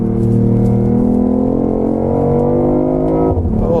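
A steady, loud BMW engine note, artificially piped in through the cabin speakers, hums smoothly in a rising drone for several seconds before dipping abruptly near the end.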